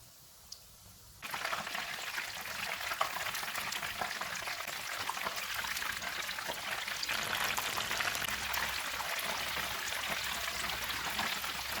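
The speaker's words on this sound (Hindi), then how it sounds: "चिकन फ्राई हो गया, इसको निकाल लेते हैं।" Chicken strips deep frying in hot oil on a medium-low flame, a dense continuous bubbling hiss that starts abruptly after a second of quiet and holds steady throughout, with no voices.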